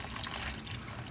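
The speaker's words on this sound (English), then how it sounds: "You pour some water." Water poured into a cooking pot for Portuguese braised peas with eggs, bacon and chouriço, a brief splashing, trickling pour at close range, steady for about a second, with no voices.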